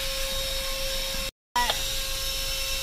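A ThisWorx handheld car vacuum cleaner runs steadily with a constant motor whine while cleaning cracks in a car interior, cut by a brief dropout of silence and then resuming.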